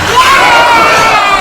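A crowd screams and cheers at a fight event as one fighter lands punches and kicks on the other, a dense, continuous roar of many voices at steady loudness throughout.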